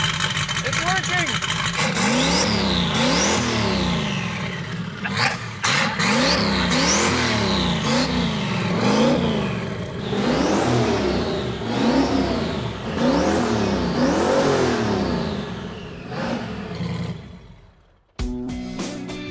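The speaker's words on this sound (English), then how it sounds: "So I think it's ready to fire up. This is the part where we make noise." Old Datsun engine being fired up and revved repeatedly, loud rising and falling revs close by in a rhythmic series, ending with a sudden cutoff, with people talking over it.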